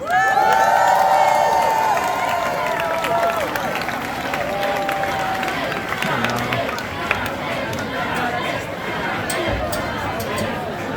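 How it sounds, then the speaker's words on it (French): A Pride Valais crowd cheers and applauds for Xavier Lavatelli, starting with loud whoops and shouts and settling into sustained clapping and chatter. "faites un tonnerre d'applaudissements pour Xavier Lavatelli"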